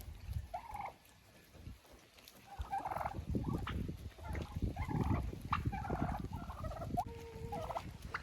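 Several turkeys gobble repeatedly nearby, overlapping rattling calls rising and falling over a rough background rumble.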